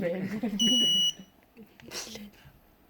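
A high, steady electronic beep from an Arduino-driven buzzer sounds like a fire alarm, a loud tone lasting about half a second amid classroom chatter and people talking.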